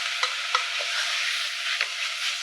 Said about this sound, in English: And then I'll just stir that, cover it, and then let it cook for a while